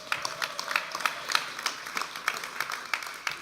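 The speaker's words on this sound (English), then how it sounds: "I think you guys should clap for that." A church congregation claps steadily, the sharp claps blending into a continuous wash of applause heard from a little distance, with no voices over it.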